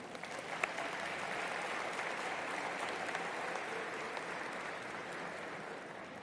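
An audience at a 2014 graduation ceremony applauds the staff members, a steady, even wash of many hands clapping at moderate distance that holds for the whole stretch without talk.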